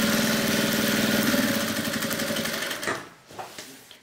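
Sewing machine stitching a topstitch along a fabric bag strap made from reused scraps, running steadily and fairly close for almost three seconds, then stopping and leaving faint handling noises.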